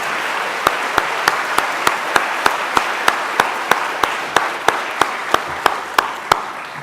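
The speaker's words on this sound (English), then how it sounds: "how about a big round of applause for 10 brilliant presentations this evening?" An audience applauds after an evening of Three Minute Thesis competition presentations: a broad, steady wash of clapping with one loud, evenly spaced clap standing out near the microphone.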